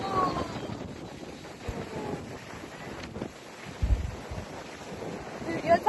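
Sea wind buffets the microphone on the Kokan coast, with a rough rumbling wash of surf underneath, gusting in uneven swells and louder thumps toward the end, and faint voices mixed in.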